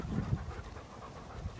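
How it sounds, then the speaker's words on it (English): An old dog pants close by in rapid, steady breaths, with a few louder huffs at the start, quiet and alone with no talking. "Charlie, he's an old dog."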